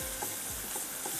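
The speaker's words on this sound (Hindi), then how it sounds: "मैदे को हम भून रहे हैं बटर के साथ" Flour roasting in butter in a pan, stirred with short rhythmic scrapes over a soft, steady sizzle for about a second, with no talking.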